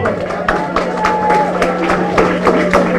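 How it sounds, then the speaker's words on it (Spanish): A radio studio audience applauds in a sustained, moderately loud wash of clapping, with a low steady hum and voices murmuring underneath. "Un aplauso, señor."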